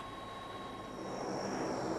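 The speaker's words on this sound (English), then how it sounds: "This Australian Air Force transport plane brings in a much-needed lorry loaded with dried milk" An Australian Air Force transport plane at Phnom Penh Airport, heard as a steady, fairly loud engine roar that swells slightly, with no voices.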